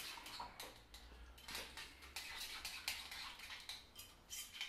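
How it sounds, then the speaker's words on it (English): A spoon stirs cucumber mint raita in a bowl, giving repeated soft clinks and scrapes in an irregular rhythm, close and fairly quiet, with no talk. "And mix that around like that."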